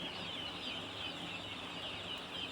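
Chickens cluck and chatter in a farmyard amid a dense, steady hiss of background noise, with no single call standing out clearly.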